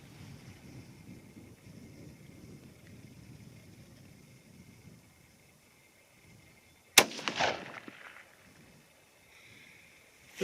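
A rifle chambered in 22-ARC with a 20-inch barrel fires a single hand-loaded round, one sharp loud crack with a short rumbling echo after a quiet windy stretch outdoors.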